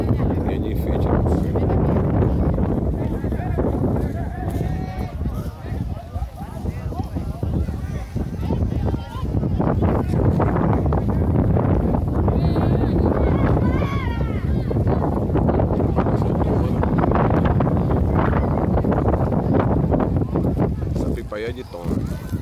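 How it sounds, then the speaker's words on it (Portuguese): Strong wind roars continuously into the microphone at a kite festival in Salvador, a loud, buffeting rush that persists throughout while voices are heard underneath. "o vento tá muito forte"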